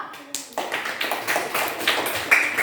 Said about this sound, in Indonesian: Sekali lagi kita kasih aplaus untuk kelompok karnivor.